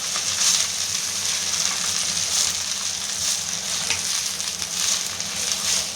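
Garlic and gongura leaves frying in a pan for Andhra gongura pickle, a steady close sizzle with soft stirring scrapes throughout.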